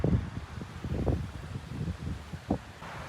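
Strong wind buffets the microphone outdoors behind a theater overlooking Highway 192 in Old Town Kissimmee in the evening, producing uneven low rumbling gusts that swell and fade; no speech.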